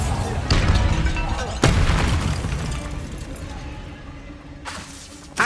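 A Bombarda spell blast in Hogwarts Legacy: two sharp booming impacts early on, each trailing into a long rumbling decay, then another burst near the end, with spoken spell calls mixed in.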